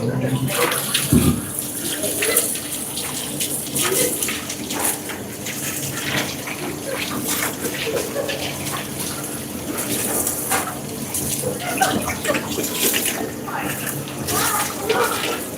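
A vegetable is rinsed under a running tap in a busy work kitchen, with water gushing and splashing steadily and close, with small shifts in the splash as the produce is turned under the stream.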